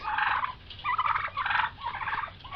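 Two tom turkeys gobbling in a backyard flock, giving several rapid warbling gobbles in close succession, loud and close with no other sound.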